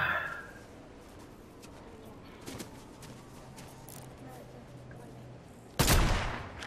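A single sharp, loud sniper-rifle shot from the Fortnite video game cracks out near the end, followed by a brief decay, after a faint earlier pop over a low, steady game ambience.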